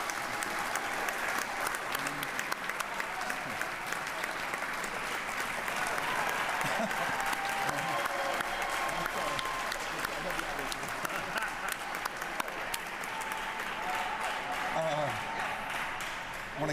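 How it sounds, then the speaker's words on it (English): A crowd at the Georgia State Capitol gives sustained applause during a tribute to C.T. Vivian, a long steady wash of many clapping hands with some voices mixed in. "Give C.T. a round of applause."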